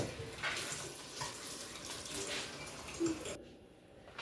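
A tap runs steadily to rinse ground meat for spaghetti sauce, a close, continuous hiss of flowing water that cuts off briefly near the end.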